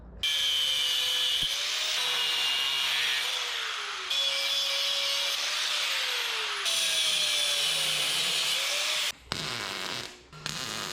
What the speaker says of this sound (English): I cut it behind where I broke it, and I put a little notch in there, and then I cut that bolt down